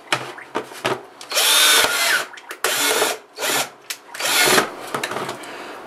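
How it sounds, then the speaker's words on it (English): Power drill boring a 3/8 inch hole with a 3/8 inch bit into a plastic hydroponics container, several loud close bursts of whining drilling separated by brief pauses. "3/8 inch drill bit."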